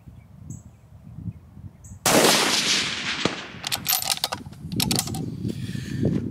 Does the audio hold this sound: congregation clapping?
no